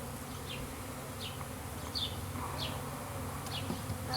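Honeybees buzzing around a backyard beehive, a steady low hum with individual bees zipping past close by every second or so, fairly quiet and continuous, no talk.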